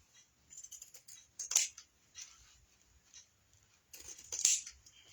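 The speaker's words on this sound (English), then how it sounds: "we can just take a pair of scissors and just trim that off." Scissors snip through drop cloth fabric in two short, close bursts about three seconds apart, with quiet handling rustle between them and no talking.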